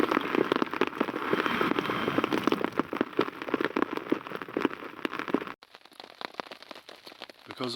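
Rain pattering steadily on surfaces at a hammock campsite in a UK storm, dense close crackling drops that suddenly quieten to sparser dripping near the end.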